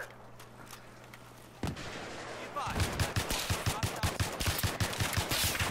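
Rapid automatic gunfire in the video game Battlefield 3, a fast run of sharp, punchy cracks after a brief quieter lead-in. Loud and close, with a voice talking around it.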